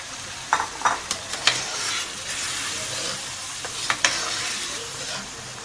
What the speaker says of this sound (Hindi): अच्छे से इसके हम फ्राई कर लेंगे तकरीबन 2 से 3 मिनट।